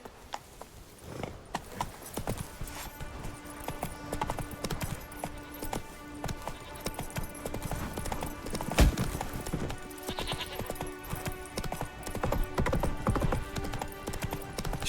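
A horse in The Witcher 3 video game gallops with steady, rhythmic hoof clip-clops over an ongoing game soundtrack, with a brief whinny partway through.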